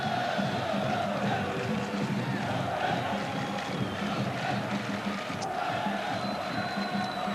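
A noisy football crowd at a Montpellier versus Manchester United match, a steady, dense roar of thousands of voices with scattered shouts, heard from a distance with no break in the din.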